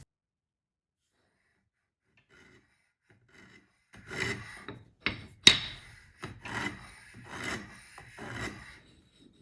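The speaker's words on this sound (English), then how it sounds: "scribe some layout lines for the tang slot" A series of short scraping and rubbing strokes of a scribe marking layout lines on steel on a granite surface plate, with a few sharp ticks, close and fairly quiet, starting after a few seconds of silence.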